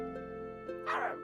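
A dog character in a children's story gives a single short, bright bark or yip over a soft, sustained musical backing, with a couple of faint yelps just before it.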